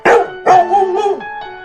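Three sharp barks from small dogs ring out close by in quick succession, each short and bright and separated by brief gaps, with no talking.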